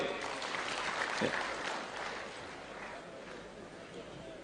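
An audience at a state funeral eulogy event for Moi applauds Kalonzo Musyoka, a broad wash of clapping that swells and then slowly fades, heard from a distance with voices mixed in.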